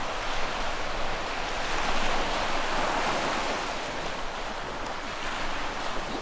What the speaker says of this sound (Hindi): इतनी बढ़िया और इतनी तेज़ हवा चल रही है